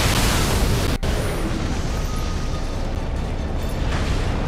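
Cannon fire in the video game Nioh: a continuous heavy rumbling roar like a sustained blast, with a brief dropout near the start and no voices.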